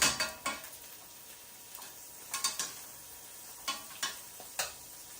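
Sea bream sizzles gently with a knob of butter in a pan under a soft, even hiss, broken by a series of distinct scraping and tapping knocks from a utensil against the pan.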